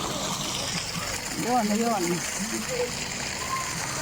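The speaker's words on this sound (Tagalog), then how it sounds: "tuloy-tuloy po ang agos ng tubig galing sa bundok" Mountain stream at Sitio Labahan in Angono, Rizal, a steady rushing flow of water that stays constant throughout, with someone talking briefly over it.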